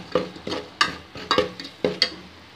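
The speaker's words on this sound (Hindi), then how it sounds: "और दो मिनट से भून लेंगे।" Boiled chickpeas sautéed with salt in a pan for Lahori chikar cholay, a spoon stirring them in a steady rhythm of about six scraping strokes over a light sizzle, close and fairly loud, with no talking.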